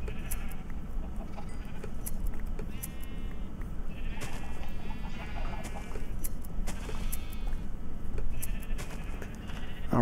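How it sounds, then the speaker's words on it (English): Minecraft sheep bleating repeatedly in overlapping calls over a steady game background with scattered clicks and footsteps, several animals nearby at moderate loudness, no talking. "Ah, more sheep. Eat the grass, my lovelies."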